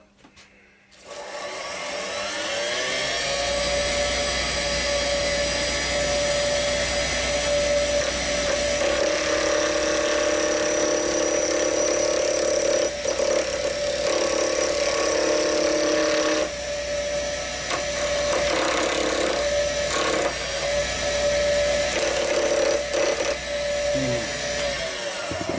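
A wood lathe spins a pen blank on a brass tube while a round nose scraper turns it, a steady high whine with a strong sustained tone, louder cutting texture coming and going over roughly twenty-five seconds.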